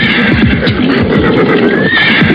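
Several horses approach with riders as a staged drama effect: loud, close whinnies and neighs ring out over a continuous bed of hoofbeats and stamping, with no talking.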